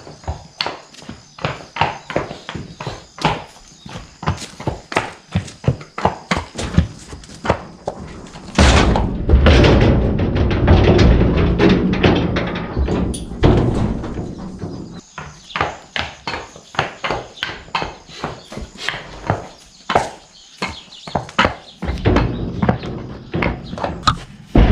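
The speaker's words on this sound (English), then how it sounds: "But let's get these horses loaded up and" Four draft horses are being loaded up for a trip to an Amish farrier to have their shoes reset. Hooves clip-clop steadily and close by, with a loud thumping, scraping burst in the middle, like a horse stepping up into a trailer.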